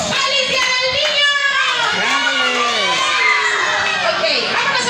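Children shout together in a loud, high-pitched burst at a Children's Day party, crowd noise and some clapping mixed in, close and continuous.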